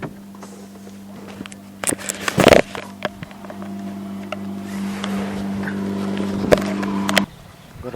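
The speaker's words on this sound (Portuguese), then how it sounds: "Abrir a porta." A car door being opened after the engine is switched off, with a short burst of latch clicks and handling noise over a steady low idle-like hum.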